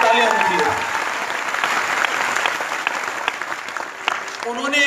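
An audience claps for two guest speakers at a Hindi-language talk. The applause is steady and moderately loud, with a voice speaking over it at the start and end.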